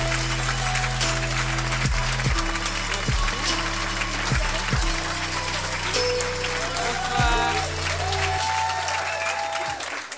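A crowd applauds steadily and loudly throughout, with a few low musical notes and a whoop or two rising over the clapping.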